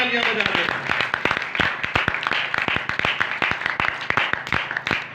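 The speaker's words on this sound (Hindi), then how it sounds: "आप एक बार अपने लिए जोरदार तालियां बजा दें।" Loud applause from a worship congregation, dense rapid clapping with sharp individual claps standing out, steady throughout with a voice briefly audible at the start.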